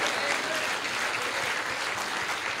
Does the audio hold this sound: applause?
yes